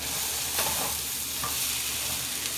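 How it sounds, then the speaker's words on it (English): Potato hash with onions and peppers is stirred in a hot pan, giving a continuous close sizzle broken by a few brief scraping stirs. "Give it a stir"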